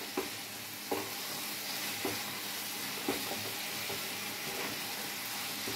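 Paneer, capsicum and onion being stirred into frying masala in a kadhai, a steady sizzle with a spoon scraping and knocking at intervals, close and fairly quiet.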